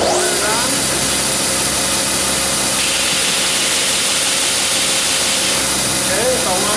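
An edge sander in a woodworking shop runs with a loud, steady mechanical drone and whirring hum that stays constant and close throughout.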